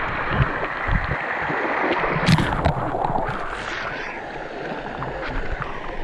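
Water rushing and gurgling inside Erawan Waterfall in Kanchanaburi, a steady loud churning roar close by, with a brief splash partway through.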